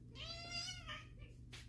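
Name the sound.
pet cat Kit Kat meowing while being picked up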